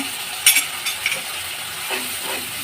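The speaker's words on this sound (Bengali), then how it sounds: "টমেটো পেস্টটা আমি দিয়ে আবার একটু কষিয়ে নেব" Tomato paste frying with spice paste in a pan for a Bengali bheda fish bhuna, a soft steady sizzle with a few louder clinks and scrapes of stirring near the start.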